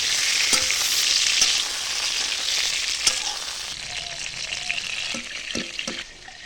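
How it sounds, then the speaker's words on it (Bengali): Cut, washed eggplant frying in the oil left after frying fish in a wok, a steady loud sizzle with occasional stirring clinks and scrapes. "ওই মাছ ভাজা তেলে কাটা ধোয়া বেগুনগুলা দিয়ে হালকা হাতে ভাজি তুলে নেব।"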